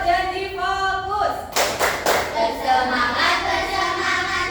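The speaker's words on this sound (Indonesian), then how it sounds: "itu kita akan belajar tepuk dulu." Several sharp hand claps burst out in a quick cluster after a sustained voice, with a classroom of students chanting and talking around them.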